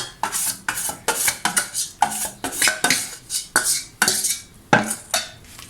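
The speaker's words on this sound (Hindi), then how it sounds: "तो सब मिक्स करेंगे।" A spoon scrapes and clanks against a cooking pot as gram flour batter is stirred into fried masala for karee, the strokes rhythmic and close, each one a sharp metallic scrape.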